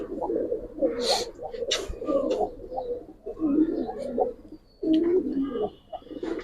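Pigeons coo repeatedly in soft, rolling bursts close by, with a few higher chirps mixed in and faint voices in the background.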